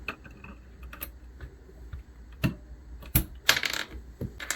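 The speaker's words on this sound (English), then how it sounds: "Just try swapping out one of these keys quick for fun." Keycaps being pried off and clicked back onto a BOYI TK96 full-size mechanical keyboard with Gateron yellow switches, a series of faint, separate plastic clicks and taps with one sharper snap near the end.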